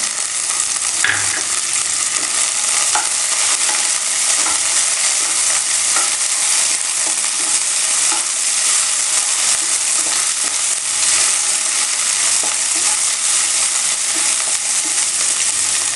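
Green chilies fry for kothu roti in a loud, dense, continuous sizzle, with occasional spatula scrapes and stirring knocks rising over the hiss for the whole stretch.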